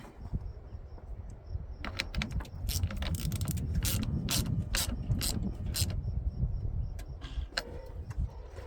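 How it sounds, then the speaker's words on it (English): Ratchet wrench clicking in bursts of sharp rapid ticks during work on an old truck being restored, moderately close with faint background noise and no talk. "Grab a ratchet."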